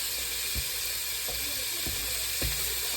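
Onions and green peppers sear in a hot pan with a steady, close sizzle, broken by a few soft knocks of a utensil against the pan.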